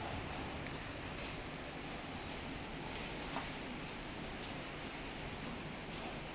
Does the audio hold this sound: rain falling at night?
yes